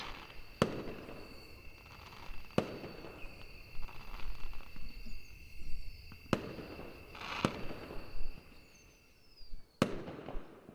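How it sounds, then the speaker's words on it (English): Fireworks rockets from the visual novel Angels with Scaly Wings burst in a night celebration. Several sharp, loud explosions arrive at irregular intervals, with whistling trails and crackling rumble between them. "Soon I heard the sound of the first rockets making its way into the night sky, after which it exploded in a pattern of colors."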